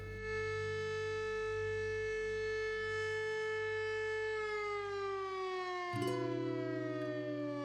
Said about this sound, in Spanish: La sirena marca el mediodía en este pueblo gentil y tranquilo